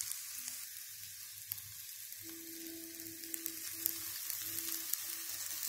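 Patties fry in a covered pan, producing a faint, even sizzle with small crackles and a low steady hum underneath.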